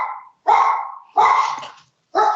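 A dog barks three times from inside a home during a podcast recording, each loud, close bark separated by a short pause, with no talking over it.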